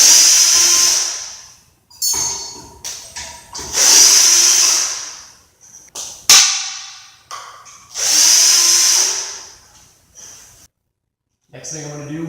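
A power drill whines in several strong bursts of a few seconds each while removing ceiling fan blades, with clicks and short pauses between runs.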